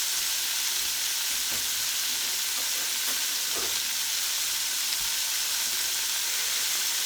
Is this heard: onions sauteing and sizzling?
yes